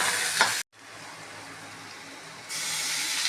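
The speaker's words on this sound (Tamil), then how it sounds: "தக்காளி போட்டு வதக்கணும் தக்காளி வெங்காயம் வதங்குறதுக்கு" Onions, garlic and tomatoes sautéing in a pan for brinjal curry, a steady close sizzle and hiss that briefly cuts out, then returns and grows louder.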